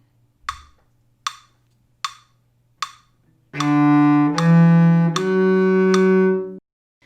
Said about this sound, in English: You'll hear 4 clicks to set the tempo.